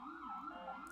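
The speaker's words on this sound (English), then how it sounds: "I'm just going to talk over the sirens." Emergency vehicle sirens wail outside, a continuous rising and falling tone that sweeps steadily throughout at moderate, fairly distant loudness, with no voices over it.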